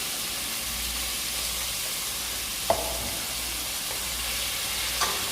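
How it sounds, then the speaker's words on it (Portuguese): Ground beef seasoned with bouillon sizzles in hot oil in a heated pan, a steady broadband frying hiss with a couple of faint clicks from stirring, no talking. "Vou fritar um pouco aqui no óleo. Dar uma selada nessa carne."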